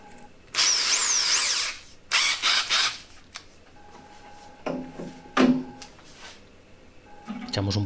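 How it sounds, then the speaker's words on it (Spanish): Power drill with a 6 mm steel bit boring into a steel plate about 3 mm thick, Skil 6224 or Felisatti SDF10, sounding in two close, loud high-pitched whining bursts, followed by quieter clatter and handling noises. "Ahora vamos a taladrar una chapa de alrededor de 3 milímetros, con una broca de acero"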